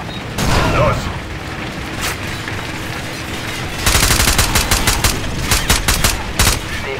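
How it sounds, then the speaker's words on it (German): A flashbang grenade goes off in Call of Duty 4 gameplay: a sharp burst early on, then a loud run of rapid cracking bangs and rattling gunfire in the second half, with game sounds underneath. "Blendgranate, los."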